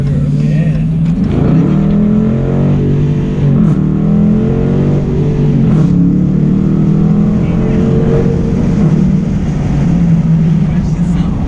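A 2017 Dodge Challenger R/T Plus engine pulls hard through acceleration, its loud steady roar dipping briefly at each gear change before climbing again, with voices talking inside the car over it.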